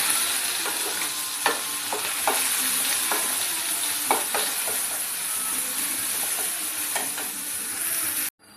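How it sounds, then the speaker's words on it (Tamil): Curry leaves, garlic and green chili sauté in a hot pan, a loud, steady sizzle punctuated by regular scraping strokes of a stirring spoon, cutting off suddenly at the very end. "கருவேப்பிலை, உள்ளி போட்டு வதக்கணும்."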